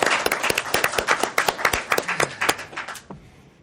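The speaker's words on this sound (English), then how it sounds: "Show of applause." A small group claps for a few seconds, brisk and uneven, then the clapping thins out and stops.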